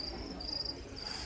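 Feeder crickets chirp in a trilling, high-pitched pulse that repeats in short bursts, fairly faint over a low background rumble.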